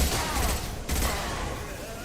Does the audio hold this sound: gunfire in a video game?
yes